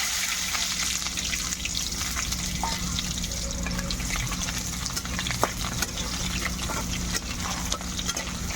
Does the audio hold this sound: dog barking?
no